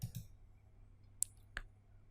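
A few sharp, faint computer mouse clicks, sparse and isolated in a quiet room.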